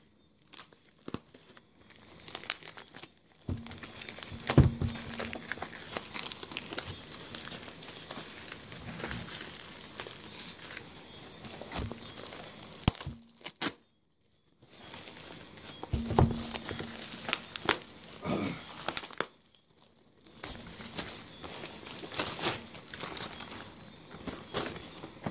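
Plastic packaging from an eBay parcel crinkles and tears in close, busy bursts, with short quiet pauses between rounds of handling.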